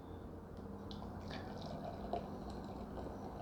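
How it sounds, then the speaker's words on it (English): Ommegang Three Philosophers quadrupel ale, brewed with kriek cherries, poured from the bottle into a glass, a soft steady liquid trickle with faint glugs, quiet and close, with no talking. "All right, it's pouring very nicely."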